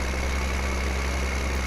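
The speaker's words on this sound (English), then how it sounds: "our biggest tractor will actually be able to pull this through the ground" A tractor engine idles in the farming video game Farming Simulator 2015, giving a steady, even, low rumbling drone that holds constant throughout with no voices.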